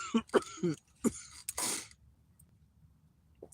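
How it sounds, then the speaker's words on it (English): Several close harsh coughs and throat-clearing bursts in quick succession after vaping a cannabis cartridge, followed by a noisy exhale, then near quiet with one faint cough at the end. "These weed carts get me coughing."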